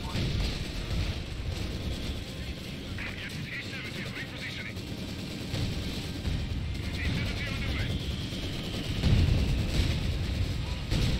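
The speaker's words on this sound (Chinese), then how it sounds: "对面这个迫击炮必须让我来制裁一下。 我好像炸不到他" Mortar fire and explosions in Company of Heroes thud and rumble continuously, dense battlefield blasts with a louder burst near the end, under a busy game soundtrack.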